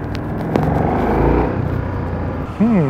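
A KTM 1390 Super Duke R, a big twin-cylinder naked bike, pulls in second gear, its engine a steady loud rumble under wind noise with a brief rising whine near the end.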